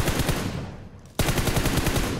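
Automatic gunfire in PUBG Mobile rattles in rapid, close bursts, pausing briefly and then resuming at full loudness.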